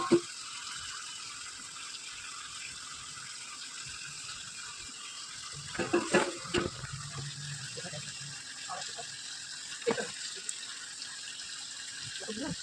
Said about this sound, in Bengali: এই ঝোলটা এখানে ঢেলে দিল।